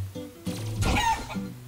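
Chicken clucking and squawking from the Dexter's Laboratory video game, a short, fairly close burst of fowl calls over quiet game tones, with no talk.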